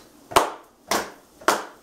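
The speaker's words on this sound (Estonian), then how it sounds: "Nüüd me kõik teeme Katrinle aplausi, sest Katrin on nii tubli olnud." Three sharp hand claps, evenly spaced about half a second apart, ring out in a home kitchen in honour of a cook whose bread is frying in a pan. No one speaks over them.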